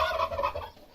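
Domestic poultry gobbling and clucking in a quick, rapid burst close by in a backyard hen coop where the hens are laying eggs; no speech.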